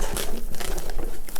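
Foam padding being pulled off a boxed MIDIPLUS AKM320 USB keyboard, a close, continuous crinkling and rustling with small tearing crackles throughout.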